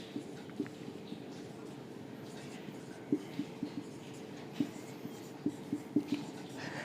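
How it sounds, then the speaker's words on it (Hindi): Chalk or marker taps and strokes on a board during a chemistry lecture, soft scattered clicks in small clusters, faint and close, under a quiet room hum with a low voice now and then. "चलिए सॉलिड लिख लेते हैं यहाँ पे।"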